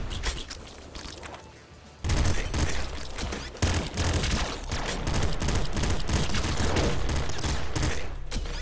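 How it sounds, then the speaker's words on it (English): Rapid game gunfire from an assault pistol in the Nuclear Throne video game, loud dense bursts of shots with booming impacts running almost continuously after a quieter opening. "An assault pistol, what's the difference? It shoots two bullets."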